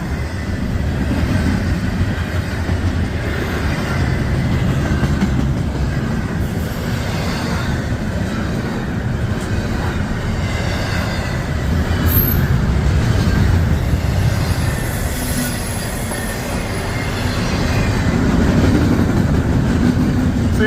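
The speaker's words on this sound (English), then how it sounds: "See if it's got a DPU with the 3 locomotives on the front. It's pretty stacked. Got some empty intermodal cars." A heavy freight train led by three locomotives rolls past with empty intermodal cars in Morrimer, Ohio, giving a steady loud rumble and clatter of wheels throughout, with a brief squeal partway through.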